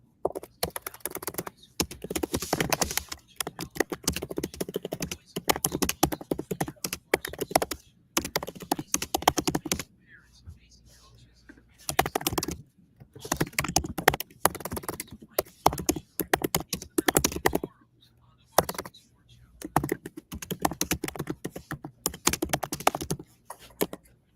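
Rapid typing on a computer keyboard in a campus radio studio, continuous bursts of clattering keystrokes with short pauses, close and moderately loud, no talking.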